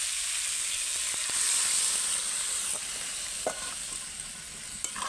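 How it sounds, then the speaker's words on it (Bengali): Water poured into a sizzling pan of pumpkin, potato and chickpea curry sends up a loud, steady hiss of steam and frying, with a few faint clinks of stirring. "এবার আমি জল দিয়ে দেবো।"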